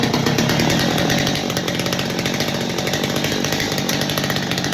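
A Stihl chainsaw, just restarted after setting the high speed jet, runs at high speed, a loud, steady, close engine roar that dips slightly after the first second and then holds.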